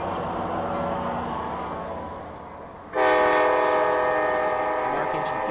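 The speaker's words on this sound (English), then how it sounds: "Mark engine 59 just arrived with P879 on track 1" Engine 59 pulls in on track 1 with train P879, a loud steady rumble of locomotive and cars that jumps sharply in volume partway through, with a bright tonal horn-like band sustained near the end.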